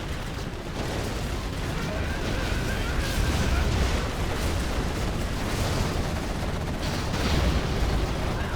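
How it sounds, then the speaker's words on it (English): Scud launcher missiles striking and exploding in the strategy game Command & Conquer Generals, GLA faction: a dense, continuous roar of overlapping blasts and rumbling detonations, loud and steady throughout, with no separate quiet gaps. "Massive Scud launcher hits"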